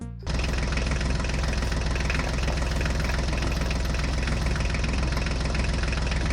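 A mini farm tractor's engine runs steadily as it drives ahead, a loud, continuous mechanical drone with a faint knocking rhythm and no voices.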